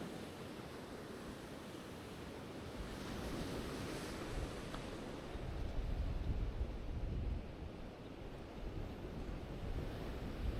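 Ocean surf breaks at a beach pier on a morning shore, a steady low rumbling wash that swells louder midway, mixed with wind noise on the microphone and no talk.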